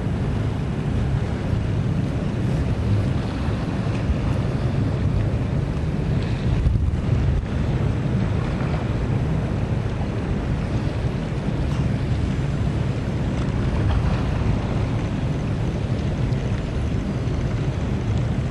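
The Boardman River rushing below the fully opened Brown Bridge dam, a continuous loud roar of flowing water mixed with heavy wind buffeting the microphone throughout.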